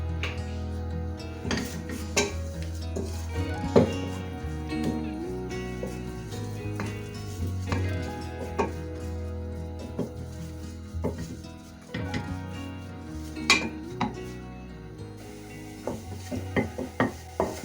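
Flour being roasted and stirred in a little oil in a pot, with intermittent scraping and knocks of a utensil against the pot and soft sizzling, moderately close and quiet, with no voices.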